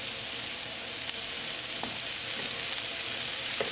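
Onion, carrots, ginger, garlic and green chili fry in a pan, a steady soft sizzle with a few faint clicks of stirring, no voices.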